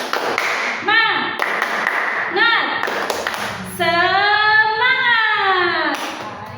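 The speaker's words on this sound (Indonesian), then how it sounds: "bagaimana kalau kita tepuk semangat lagi?" A classroom of children does the rhythmic 'tepuk semangat' spirit clap: crisp hand claps in a patterned beat, followed by loud, drawn-out chanted voices.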